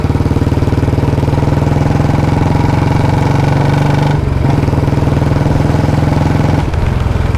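A modified Royal Enfield BS6 Bullet 350 with a short Punjab-style exhaust thumps loudly and steadily up close, its deep rapid single-cylinder beat dropping briefly midway before resuming.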